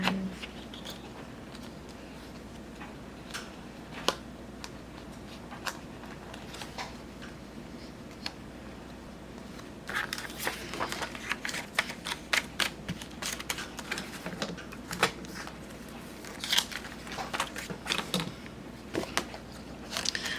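Paper clips being slid onto planner pages to hold them back together, making irregular small clicks, rustles and taps that come close up and alone, sparse at first and then busier.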